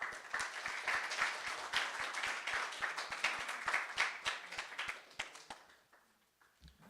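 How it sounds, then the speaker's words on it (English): An audience at a high school event applauds, a steady wash of many hands clapping that carries on for several seconds before fading away into near silence. "Let's give him a round of applause."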